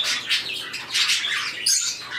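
Pet birds, parakeets, a canary and a cockatiel, chirp and twitter together in a dense, continuous chatter, close by and fairly loud, with no talking.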